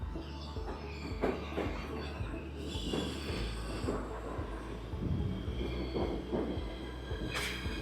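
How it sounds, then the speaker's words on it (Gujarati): A New York City subway train bound for World Trade Center rumbles and clatters into a station platform, with metallic wheel squeals and a rising hiss of brakes near the end. "વર્લ્ડ ટ્રેડ સેન્ટરની ટ્રેન આ પ્લેટફોર્મ પર આવશે એન્ડ આવી ગઈ."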